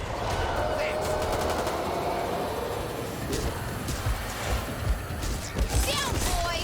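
Gunfire in the co-op zombie shooter Back 4 Blood: bursts of rapid shots and impacts, moderately loud, mixed with game voices and background clatter.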